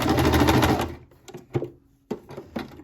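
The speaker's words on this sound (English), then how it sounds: "I'm not really worried about where I'm sewing it." A sewing machine stitching fabric runs in a fast, steady mechanical whir, then stops and gives a few short bursts of stitching with quiet gaps between.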